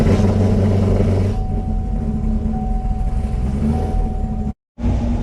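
A Krypton Chevrolet Camaro engine idles as it warms up on a rainy day, a steady close low rumble that holds throughout, briefly cutting out near the end before resuming.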